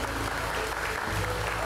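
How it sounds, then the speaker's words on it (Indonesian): Studio audience applause at the opening of a televised talk show, a brief, full burst of clapping with a low hum and voices beneath it. "Tepuk tangan dulu dong."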